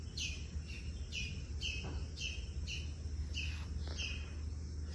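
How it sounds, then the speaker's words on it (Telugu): Birds at a Goa island resort call in a repeated pattern of clear, bright chirps, about eight evenly spaced phrases heard close by over a soft background hum, with no talking. "బర్డ్స్ సౌండ్స్ వినండి."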